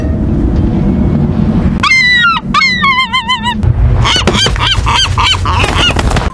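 Seagulls cry in a horror film set, a series of loud, harsh, wavering calls in two quick bursts, then shorter repeated squawks over a constant low rumble.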